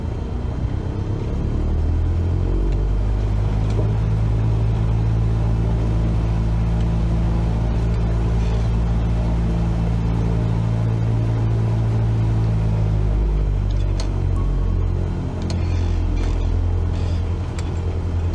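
An aircraft in Microsoft Flight Simulator 2020 at full throttle on its takeoff run: a loud, steady engine drone with a deep rumble holds for many seconds, close and continuous, with no talk.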